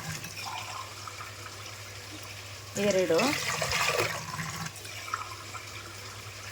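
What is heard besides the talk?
glasses of water poured into pot for pulao rice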